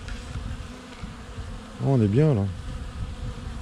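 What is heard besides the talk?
bees buzzing around beehives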